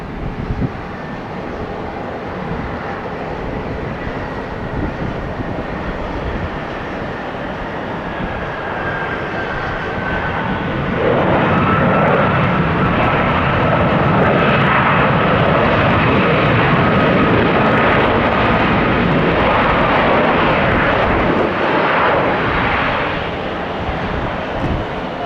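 Sustained roar of an airliner, a Sun Country 757, on the runway at Tampa airport, building in loudness about halfway through as takeoff power rises, with a faint whine over the broad rumble.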